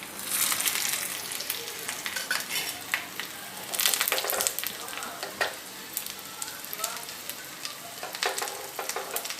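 Mustard seeds, fenugreek, curry leaves and shallots spluttering and crackling in hot oil for a rasam tempering, with dense continuous sizzle and sharp popping bursts, loud and close, no talking.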